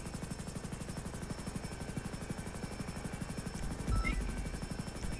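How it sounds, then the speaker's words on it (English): A police helicopter hovers overhead during an arrest, its rotor beating in a steady fast pulse throughout. It sounds moderately distant and fairly faint, with a brief louder thump near the end and no one speaking. "Where's the helicopter? Right there."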